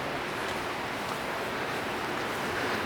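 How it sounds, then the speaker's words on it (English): Fast-flowing water near a large waterfall in Switzerland, a steady, dense roar of rushing water with constant loud broadband noise throughout and no talking. "Water that's going fast."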